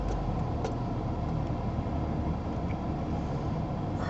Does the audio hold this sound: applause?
no